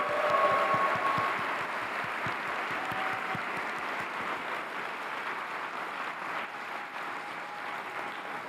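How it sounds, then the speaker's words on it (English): An audience at OpenAI DevDay 2025 applauds steadily throughout, a dense, continuous roar of many hands with a few distinct claps near the front early on, no speech over it. "Let's give them a round of applause."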